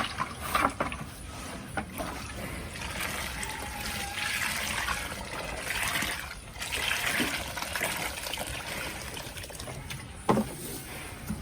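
A liquid mixture of medicine waste is poured into buffalo feed on a farm, a steady splashing trickle of liquid close by with no talking over it.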